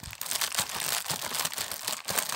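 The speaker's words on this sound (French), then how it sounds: "Je prends mon petit ciseau pour ouvrir l'enveloppe." Small scissors slicing open a paper envelope, a close, steady crinkly rasp of paper being cut and torn with brief pulses, no voices.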